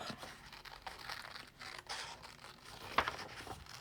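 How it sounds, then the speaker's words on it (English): Paper scissors snip through a sewing pattern sheet in a quiet room, making faint crisp crinkling cuts with one sharper snip near the end and no talking. "I'm just going to use my little paper fuzzy cut scissors here to cut this pattern up"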